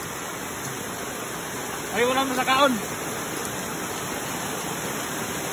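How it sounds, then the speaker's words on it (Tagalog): Steady rain falling near a beach, a constant broad hiss throughout, with a voice speaking briefly over it. "Ulan na."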